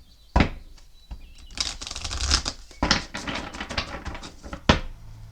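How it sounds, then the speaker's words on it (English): Tarot cards riffled and shuffled close by in several rapid bursts, with sharp snaps between them. "let me give him another shuffle this way"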